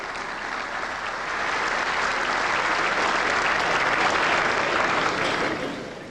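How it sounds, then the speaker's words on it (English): An audience at a golf ceremony gives a warm round of applause for the moderator, full, dense clapping that swells after a second and holds steady before tapering off at the end. "Let's give a warm round of applause for Craig Shankland, please."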